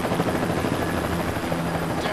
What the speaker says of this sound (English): Wait, because the helicopter's gonna leave and the lights that are on it can spot you.